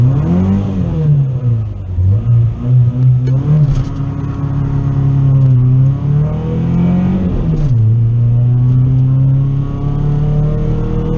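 A budget-built turbocharged car engine revs at about half throttle with a failing two-step, its loud, close roar rising and falling in pitch through several pulls with no voices.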